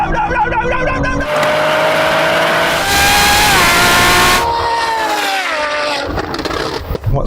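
A Nissan GT-R Nismo racing a Ferrari 812 revs hard and accelerates, its loud engine note climbing through gear changes with rising and falling tones.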